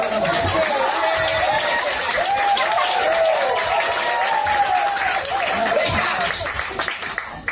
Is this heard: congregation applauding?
yes